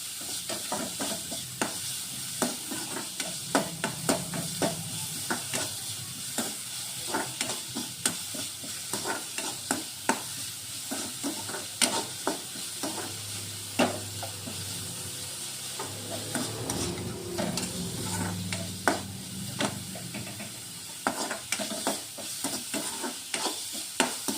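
Onions sautéing in a pan with powdered salt give a steady close-up sizzle, broken throughout by frequent scraping stirs, with no talking.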